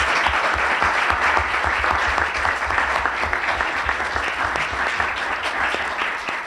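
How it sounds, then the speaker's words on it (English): Sustained audience applause for a panel at a Saint Paul Public Library event, a dense, even wash of clapping from many hands that holds steady and fades slightly at the end. "let's give our panel a round of applause"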